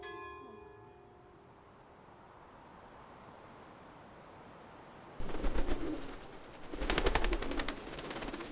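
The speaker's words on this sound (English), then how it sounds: "which activate the bell mechanism that rings every 15 minutes" Cathedral bell in Reims Cathedral, struck by the carillon's counterweight-driven mechanism that sounds every quarter hour, rings out in a few loud, reverberant clangs after a quiet stretch with a fading tone at the start.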